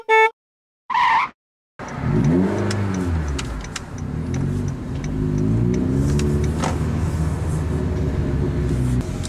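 A Honda Fit 3 RS with a six-speed manual gearbox on a short test drive, its mid-pitched engine revving up and easing off through several gear changes after a couple of brief opening sounds, heard from inside the car.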